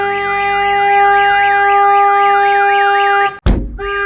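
A Keetec Blade alarm sounds on a 2017 Ford Transit Connect: a loud, steady warbling siren tone, cut by a sharp thump and brief break before resuming close by.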